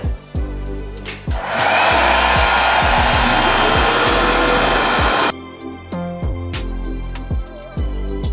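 RevAir reverse-air hair dryer on high heat at airflow level 2, a loud steady whoosh of blowing air that starts suddenly, holds for about four seconds, then cuts off, with music playing throughout.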